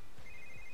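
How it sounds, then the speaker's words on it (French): A phone rings in The Sims 3 game, a brief electronic ringtone chirp, faint and clear over a quiet background. "Je crois que ton téléphone il sonne."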